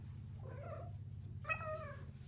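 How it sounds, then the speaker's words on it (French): A cat meows twice, short and moderately close, over a low steady indoor hum, with no voices. "elle miaule"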